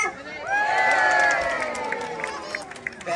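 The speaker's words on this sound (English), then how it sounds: "But if he hits the other one, give him a massive cheer." A crowd cheers loudly for a sea lion at a show at West Midlands Safari Park in April 2023, a bright burst of shouts and whoops that swells, then fades into scattered calls.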